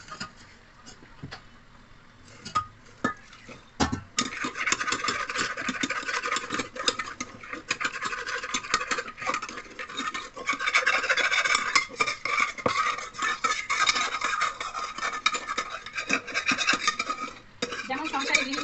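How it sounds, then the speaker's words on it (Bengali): Garam masala spices are ground by hand on a shil-nora stone, producing close, continuous gritty scraping and rubbing strokes in an uneven rhythm. "এবার গরম মশলাটা আমি শিলনোড়ায় বেটে নেবো"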